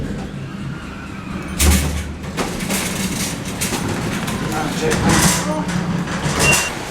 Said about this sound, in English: Ground floor. Doors opening.